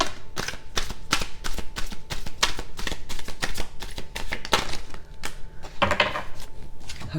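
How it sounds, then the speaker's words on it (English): Tarot cards are shuffled close by in rapid papery riffles and taps, a dense run of sharp slapping clicks with brief lulls, loud and continuous throughout. "One more shuffle."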